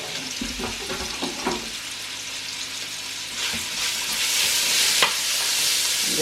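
Bacon strips drop into a very hot pan and sizzle, with a few clatters of placement at first, then a steady frying hiss that swells louder and stays close and continuous.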